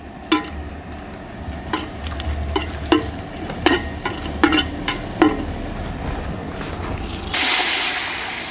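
Whole spices (cinnamon, cardamom, cloves, mace) frying in sunflower oil for fish biryani: a constant soft sizzle punctuated by sharp clicks of a spoon stirring against the pot, ending in a louder rush of hiss.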